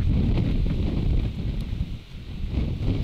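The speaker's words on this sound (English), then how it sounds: "Oh, it is windy." Steady wind buffeting the microphone on a golf course at Pula Golf Resort, a loud low rumble that swells and dips slightly throughout, with no voices.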